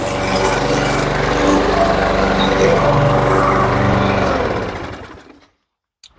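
A walk-behind lawn mower engine runs close and loud, a steady rough buzz with a strong low rumble. After a few seconds it winds down and cuts out, leaving silence.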